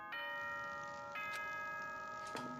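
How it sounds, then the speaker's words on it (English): Danganronpa nighttime announcement chime, a bright electronic ding-dong of sustained bell tones repeated in short phrases, fairly loud and alone. "it's definitely just the standard nighttime announcement"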